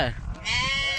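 A sheep from a flock of around two hundred milk sheep in a Karnataka village gives a short call, then a longer quavering bleat, close and clear, with voices in the background.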